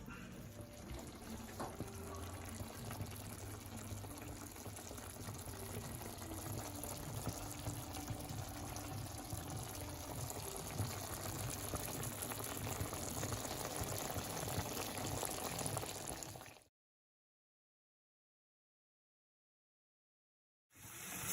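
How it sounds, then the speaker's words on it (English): Crab sukka simmering in a pan, a steady, close bubbling hiss lasting about sixteen seconds before cutting to silence, then briefly resuming at the end. "let's cook this in simmer for about a minute or two"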